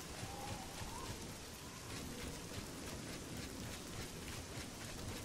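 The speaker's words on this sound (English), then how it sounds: "and it's raining again." Steady, dense video game rain hiss in Oblivion fills the whole stretch, a constant wash of patter with no voices over it.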